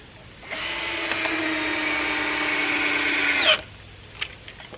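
A power drill whines steadily for about three seconds as it drives a 3.5-inch wood screw into timber while a workshop loft is finished, its pitch dropping slightly before it stops abruptly, followed by a faint tap.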